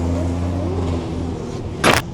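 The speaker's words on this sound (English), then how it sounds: "The fact that he's drifting a V12 Ferrari is nuts, and the way this thing sounds" A Ferrari F12 drift car's V12 engine drones at a steady pitch nearby, then a sharp, loud burst of noise cuts in near the end.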